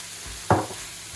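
Giant squid with garlic fries in a pan under a steady soft sizzle, with one brief louder stir or splash standing out in the middle, close and alone without talk.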